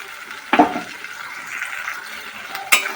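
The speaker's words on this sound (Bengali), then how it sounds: "আর মিক্সির জারটা ধুয়ে আমরা একটু জল দিয়ে দেবো।" Water poured into a rinsed mixer grinder jar in a kitchen, giving brief close splashes and swirling with a soft running-water wash and a final splash.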